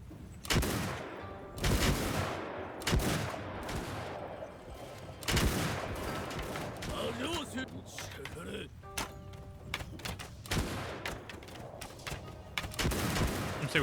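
Gunfire in the Mount & Blade II: Bannerlord Shokuho mod comes as repeated sharp volleys and scattered single shots over a busy battle din, with voices heard faintly in between.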